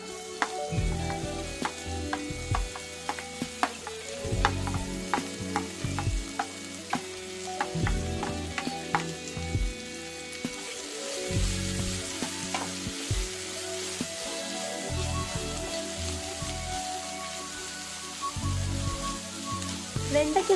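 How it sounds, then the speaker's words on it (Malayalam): Sliced okra sautéing in a pan with turmeric and curry leaves makes a steady sizzle, broken by repeated scraping and clinking of a spoon stirring against the pan, close up and continuous. "വെണ്ടയ്ക്ക് നന്നായി ഒന്ന് സോർട്ട് ചെയ്ത് കൊടുക്കുക"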